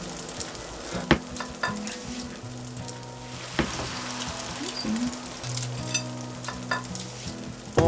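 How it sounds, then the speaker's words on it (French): An omelette with porcini mushrooms fries in a hot pan, a steady close sizzle broken by occasional clinks and scrapes from a utensil. "je vais chauffer la poêle"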